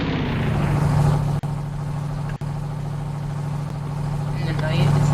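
A 2021 Ram truck engine in the video game Vehicle Legends hums at a steady idle-like drone, a continuous low tone broken by two brief dropouts, with a person talking over it.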